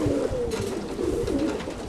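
A plump chocolate racing homer pigeon hen coos close by, with soft repeated low throaty calls running continuously throughout.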